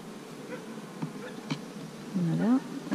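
Honeybees hum around an opened hive while frames are handled, a continuous close buzzing that rises and bends in pitch near the end. Faint handling knocks sound under it, and no one speaks.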